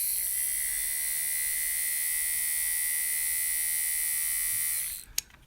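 Small electric motor from a Palitoy talking Dalek voice box spins with a steady, close whirring buzz for about five seconds, then winds down abruptly and ends with a brief click.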